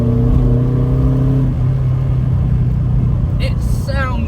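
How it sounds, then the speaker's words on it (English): A 1971 Lotus Elan drophead coupe's front-mounted twin-cam four-cylinder engine hums and revs steadily, loud and close, its small four-cylinder drone shifting pitch partway through. "a revvy little twin cam 4-cylinder engine in the front"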